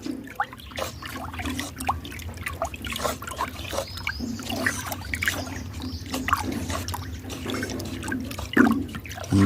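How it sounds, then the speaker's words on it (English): A stick stirs a liquid solution, making faint close sloshing and trickling water sounds that run steadily with small irregular splashes. "I'm using a stick to stir it so that it can mix."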